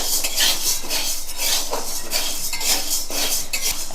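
Sago pearls are stirred in a pan, heated dry in a wok for a fasting-day dish: a steady, close scraping and rattling of a utensil against the metal pan, continuing with no talk.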